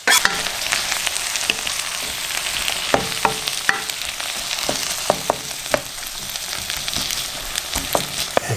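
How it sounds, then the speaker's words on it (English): Tomato is stirred into a sauce frying in a pan, a steady close sizzle with scattered sharp clicks and scrapes of the utensil against the pan, and no voices. "Stir it up a little. Plus the tomato"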